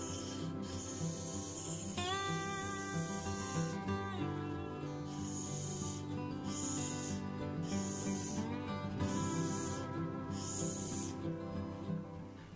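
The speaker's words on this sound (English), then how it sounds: "On a 600 grit wheel, I will touch up the rod to make the final shape of the punch." A steel rod is shaped against a 600 grit sharpening wheel, giving quiet rasping grinding passes in a rhythmic series of short strokes over a steady whirring wheel tone.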